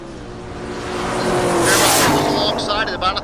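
A big Buick and a 1980 Fairmont roar down a drag strip at a race week event in Great Bend, Kansas, engines swelling to a loud pass with tire noise, while a commentator talks over the racing.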